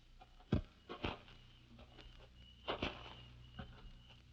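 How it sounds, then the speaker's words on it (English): Footsteps on an outdoor path in a radio drama, a handful of soft irregular steps with some scuffing, faint and fairly distant against quiet ambience. "Then you hear the footsteps."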